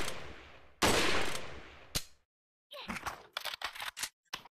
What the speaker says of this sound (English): and I guess I can just shoot